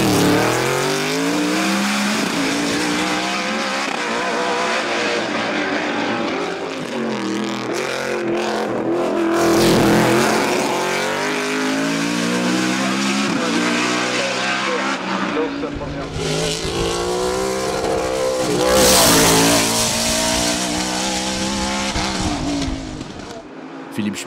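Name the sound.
BMW M3 E92 race car in hillclimb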